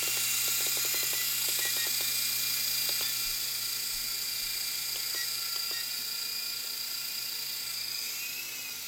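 E-flite Blade mcX micro RC helicopter with rotors spinning, a steady high whine with a low hum beneath, brief faint servo clicks early on, constant and close.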